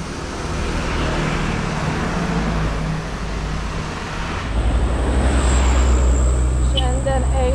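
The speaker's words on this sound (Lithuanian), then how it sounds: "Šiandien eismas toks." Road traffic rumbles past on a street in Bali, Indonesia, a continuous wash of engines and tyres that grows louder partway through as vehicles pass close, with a faint horn-like tone and someone talking over it.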